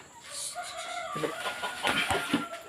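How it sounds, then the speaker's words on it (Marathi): Chickens and roosters cluck on a farm where the birds are kept shut in. Several birds call close by, rising and overlapping in uneven bursts of clucks and squawks. "दोन कोंबडे वरती ठेवलेत मोठे आहेत ते"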